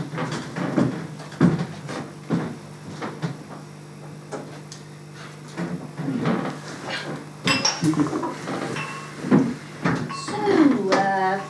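Rummaging through a kitchen cupboard where plastic food containers are stored, with repeated clattering and knocking of containers and pots, a few clinks and a cupboard thump, loud and close, with a little talk in between.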